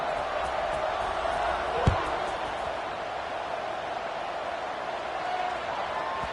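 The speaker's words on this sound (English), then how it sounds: "this crowd is buzzing after that last score" Dense crowd noise fills a football stadium after a score, a steady loud roar with one sharp thud partway through, and faint commentary underneath.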